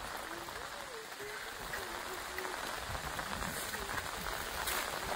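Heavy rain falls steadily in the Konkan countryside, a dense even hiss of drops on surfaces, with a faint voice drifting underneath.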